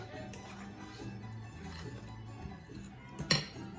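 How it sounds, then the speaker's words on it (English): A spoon stirs bread pudding batter with cinnamon in a bowl, giving soft, faint scraping and light clinks, ending in one sharper clink against the bowl. "And I mix this baby."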